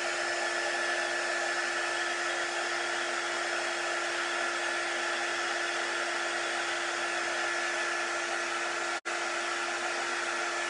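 A heat tool blows a steady, loud whooshing hum while drying wet chalk paint, running continuously with one brief cut near the end and no talking.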